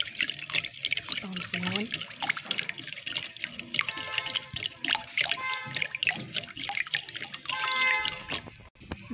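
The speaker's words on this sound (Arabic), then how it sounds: "دابا غنخلطو ان شاء الله. دابا نخلطو الخليط" Wet, squelchy mixing of brioche dough with eggs, the batter made with orange juice and grated carrot, sloshing in irregular bursts under a woman's speech throughout.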